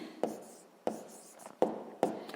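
A pen moving across paper during a sixth-grade maths exercise, heard as four short scratchy strokes spaced roughly evenly, each fading quickly, close and fairly quiet.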